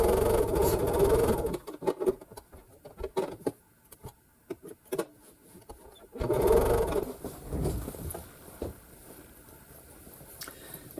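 A sewing machine stitches a half-inch seam on Christmas quilt block strips, running in a loud whirring burst, then stopping with scattered clicks and handling, then starting again for another run, close with no talk.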